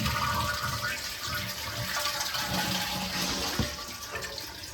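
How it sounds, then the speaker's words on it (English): A toilet being flushed to drain its tank before replacement, a continuous loud rushing of water close by that gurgles and swirls throughout, with no talking. "we're going to drain it down and get all the water out."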